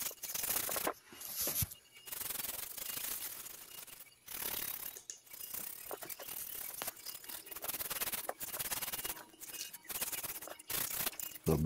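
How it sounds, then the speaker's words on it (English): Steady scratchy sanding strokes rasp back and forth in an irregular rhythm, close by, with brief pauses between passes. "Sanding."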